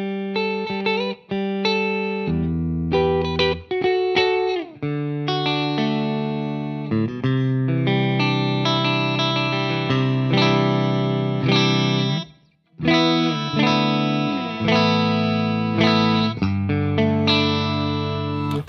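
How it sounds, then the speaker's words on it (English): Electric guitar through a Friedman JJ Jr 20-watt amp on a bright, silky modern clean tone, played loud and continuous with strummed chords and melodic runs for most of the span, a short pause near the end, no talking. "you have what I would say is more of like a really modern, super clean, sort of a little brighter, silky, clean tone"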